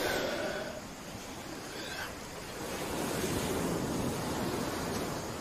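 Ocean surf rushes steadily onto a beach, a broad hissing wash of breaking waves that swells louder toward the end, with some wind noise.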